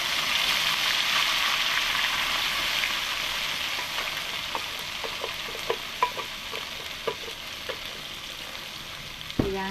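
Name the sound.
blended ginger, garlic and turmeric paste frying in oil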